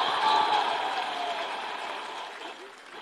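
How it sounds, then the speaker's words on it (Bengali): Sustained clapping from a big crowd at a public address, a thick wash of hands that starts strong and slowly tapers off over a few seconds. "আমাদের ক্ষোভের জন্য একটা জোরে হাততালি,"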